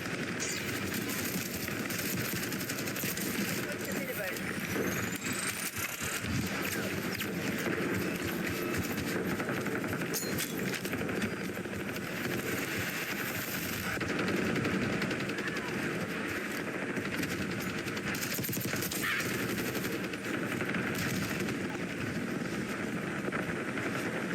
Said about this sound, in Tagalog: Puro baril na lang talaga.